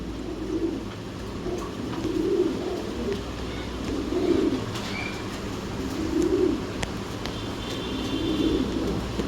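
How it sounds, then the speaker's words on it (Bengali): Jacobin pigeons coo in soft, rounded bursts that repeat every couple of seconds, steady and fairly close, over a constant low hum of background noise in a pigeon sales setting. "যারা জ্যাকোবিন কবুতর পছন্দ করেন তাদেরকে কিন্তু এই পেয়ারটা নিয়ে আসছি।"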